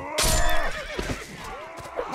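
A horse in a video game whinnies loudly and nearby, with a rising-and-falling neigh followed by softer snorting calls and a few hoof clops.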